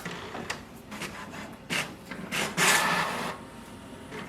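An HP Smart Tank 7301 inkjet printer runs a copy job close by, giving soft mechanical rubbing and scraping passes with brief paper-feed swishes and a louder sliding burst near the end, with no talking.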